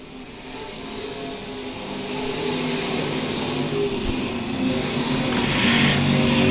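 Modified stock cars race at Lakeside Speedway in the USRA A and B Mods and Stocks Nationals, a sustained roar of engines that swells louder as the cars draw nearer, with no talk.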